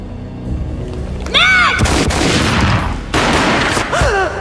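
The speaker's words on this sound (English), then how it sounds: "A gunshot boomed and she fell down in slow motion." Gunfire erupts in the Max Payne game, a sudden loud boom followed by a second blast amid swirling whooshing effects and rising, sweeping tones, dense and close with no speech.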